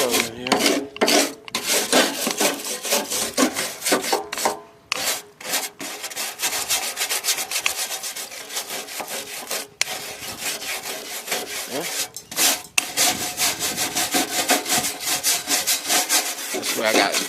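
Steady scraping and cutting on a steel lawn mower deck under repair, a rough continuous rasping that runs almost the whole time with a few brief pauses, close and fairly loud.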